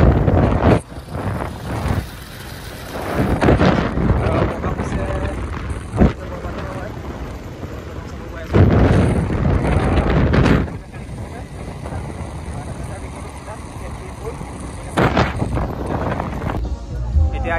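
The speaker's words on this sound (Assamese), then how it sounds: "বাইকত গৈ আছোঁ" Wind buffets the microphone while riding a motorbike, producing loud, gusty roaring bursts that rise and fall, with a voice heard at times underneath.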